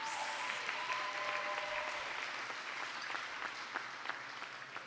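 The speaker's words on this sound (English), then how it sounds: "Let's give another round of applause to Hugh House." An awards gala audience applauds continuously, a broad wash of many hands clapping at an even level that gradually thins toward the end.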